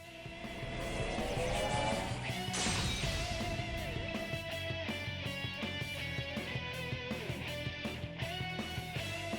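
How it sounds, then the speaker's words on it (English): A monster's body shattering into pieces in Persona 4 Arena Ultimax: a loud crashing burst that swells and breaks apart, trailing into sustained ringing, debris-like clatter with a steady rhythmic pulse beneath, no voices. "Torna power becomes a giant sword that pierces Hino Kagutsuchi, and its body shatters into pieces."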